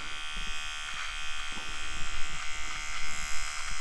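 A Vivitar nose hair trimmer buzzes steadily in a high-pitched electric whine while trimming hair, with small fluctuations as it moves, close up and alone.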